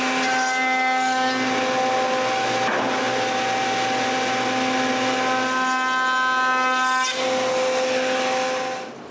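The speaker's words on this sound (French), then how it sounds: "je vais utiliser cette grosse mèche à corderon pour donner un petit arrondi au rebord du dessus" A router fitted with a large roundover bit shapes the top edge of a wooden workshop cabinet, a loud, steady high-pitched whine with a brief dip in load midway as the bit bites into the wood.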